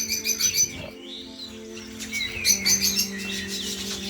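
Three Japanese sparrows in an aviary give a busy run of high chirps and tweets, close and fairly loud, with no voices over them.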